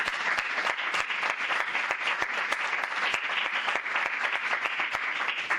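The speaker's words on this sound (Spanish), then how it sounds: "aprovecho para darle la enhorabuena de nuevo y dedicarle un afectuoso aplauso" An audience at a consumer law congress in Granada claps steadily and densely for about five seconds, a sustained, fairly loud patter of many hands with no voices over it.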